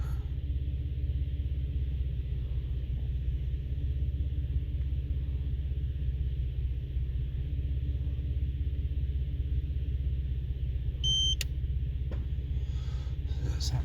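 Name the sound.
Nissan Stagea ECU beep and solenoid clunk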